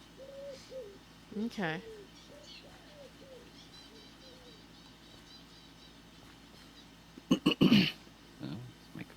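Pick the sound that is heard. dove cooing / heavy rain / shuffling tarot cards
dove cooing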